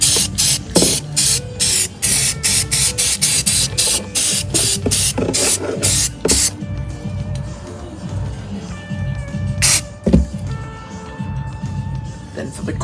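Short bursts of spray paint hiss in quick succession from a rattle can coating a prop sketchbook, close and loud for the first six seconds, then a few scattered sprays follow with quieter handling noise.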